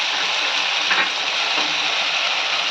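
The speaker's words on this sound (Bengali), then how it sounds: "এটাকে সুন্দর করে কষিয়ে নিতে হবে যতক্ষণ না আদা রসুনের গন্ধটা চলে যাচ্ছে" Tomatoes with ginger, garlic and green chilli paste sauté in a pan, giving a dense, loud, unbroken frying hiss that holds steady throughout.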